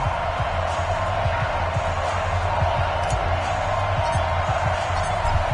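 A stadium crowd in an EA Sports football game keeps up a constant, dense roar of cheering, with faint thumps and low rhythmic noise beneath it and no clear pauses.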